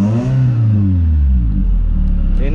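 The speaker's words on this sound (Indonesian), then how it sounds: "begitu digas-gas juga mesinnya sehat" A used car for sale, being checked for engine health, has its throttle blipped: the engine rises in a loud, close revving sweep, then settles back into a steady, low idle rumble with no talking over it.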